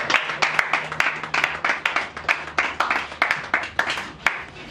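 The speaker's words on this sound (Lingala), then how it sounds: "Sous vos applaudissements" An audience applauds at an evening event, with irregular, fairly close hand claps that rise and fall in bursts and are heard without talk.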